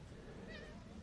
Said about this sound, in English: And I'm being disturbed in real time by Wiggins the cat